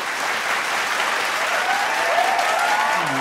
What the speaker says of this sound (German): Begrüßen Sie mit einem riesigen Applaus Werner Mommsen.